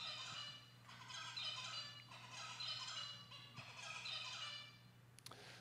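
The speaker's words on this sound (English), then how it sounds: "zebrafinch have songs that sound like this." Zebra finch song recorded as a repeated motif: three bursts of bright, buzzy, harmonic chirping come and go in a steady rhythm over a constant low hum, followed by a few sharp clicks at the end.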